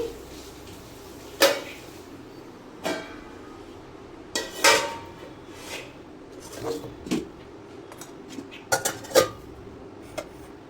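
Plates and dishes clink and clatter close by as cooked food is covered with plates, a series of sharp irregular knocks and ceramic taps with quiet gaps between.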